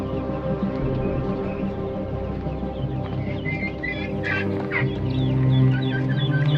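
Chickens cluck continuously on a village poultry farm, a dense close chorus of overlapping clucks with a few sharper calls rising out near the end, no voices over it.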